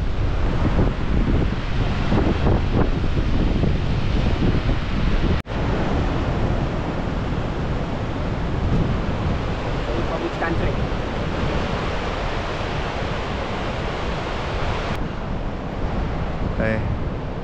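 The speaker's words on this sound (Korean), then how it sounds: "세계 3대 폭포라고 하는 이유가 있었네요" Victoria Falls on the Zambia–Zimbabwe border roars with a loud, dense, unbroken rush of falling water and wind buffeting the microphone, sustained throughout with a brief dropout.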